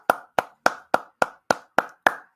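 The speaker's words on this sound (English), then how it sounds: "I applaud you." Eight sharp hand claps in a steady, even rhythm, each crisp and close, with short decays and nothing else in between.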